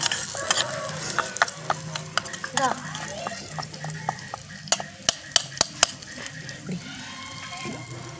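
Chilli chicken stirred in a pot over an outdoor wood-fired stove, with scraping and clanking spoon strikes at an irregular rhythm, sharp metallic knocks toward the end, and voices talking intermittently in the background.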